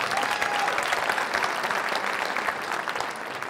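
Loud, sustained applause from an audience at a school talent show honoring school administrators, with steady clapping filling the room throughout.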